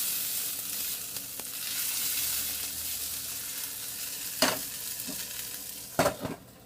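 A homemade lentil and grain burger fries in a pan with a steady, close hiss of sizzling oil, broken by a few sharp scrapes and taps as it is turned.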